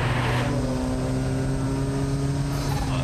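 Ford Sierra Cosworth engine running close by, a steady droning hum with a strong low tone and a constant even pitch, loud and unbroken with no speech.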